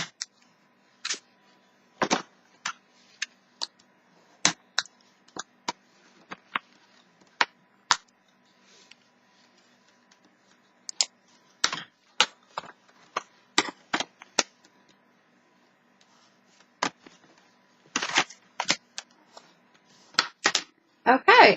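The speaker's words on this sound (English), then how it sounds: "take a bone folder and you want to score very well" A bone folder scoring and creasing thick paper for a 6x6 paper storage box, heard as a long series of sharp dry clicks and snaps, some single and some in quick bursts, close and crisp, with quiet gaps between them.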